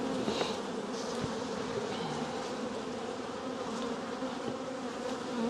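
Honeybees swarm and buzz loudly around a freshly opened hive during spring splitting, a dense, continuous close-up drone of many wings with no pauses.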